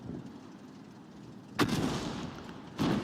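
A tank firing HE shells in World of Tanks, two loud booming shots about a second apart over a low background rumble of battle.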